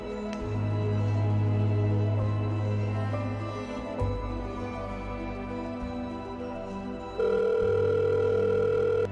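A phone call to a friend rings out with a steady electronic ringback tone, loud and close, its repeating pattern shifting pitch partway through.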